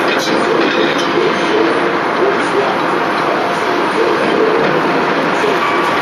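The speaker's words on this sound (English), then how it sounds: "This train's gonna move." Continuous loud rumble and hiss inside a GO Transit commuter train, a steady roar with faint rhythmic clatter and a high whine, close and unbroken.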